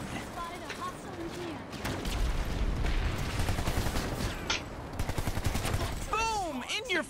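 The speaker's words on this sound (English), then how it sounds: "Stop shooting at me!" Gunfire rattles through a PlanetSide 2 battle in bursts and rapid volleys, with dense sci-fi weapon reports and whooshing effects, under excited talking.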